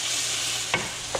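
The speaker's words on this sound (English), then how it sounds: "Let's stir our meat again." Ground meat for a meat pie, cooked with sliced shallot and onion, is stirred in a frying pan. A steady low sizzle runs throughout, and two brief scraping strokes of the spoon come near the end. No one speaks.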